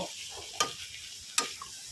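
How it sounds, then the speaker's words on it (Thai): Shrimp and cabbage stir-fry being stirred in a pan, a soft sizzle under two sharp, close utensil clacks against the pan about a second apart, no voices. "แล้วก็ คนทุกอย่างรวมกัน"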